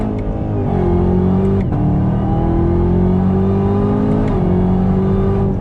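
A 2019 Chevrolet Camaro ZL1 with a 10-speed automatic roars loudly as it accelerates on throttle from about 25 mph, pitch climbing through gears with brief dips at each shift, close and continuous.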